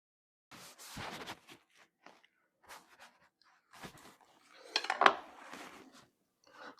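A knife trims gristle and a piece of bone from raw pork spare ribs being readied for smoking, giving short scraping and cutting sounds in separate bursts with a sharper scrape near the end, close, over silence and without speech.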